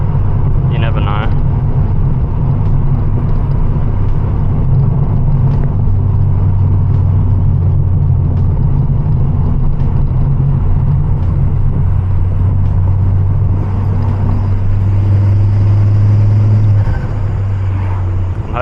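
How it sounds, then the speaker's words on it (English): Steady low engine drone inside a Ford Focus ST MK2 turbo cruising in 4th gear around 60 through a forest road, a continuous loud rumble with faint higher whooshing layered over it. "I'm hoping you guys can hear the turbo flutter as well, especially at like 4th gear, like 60 like this"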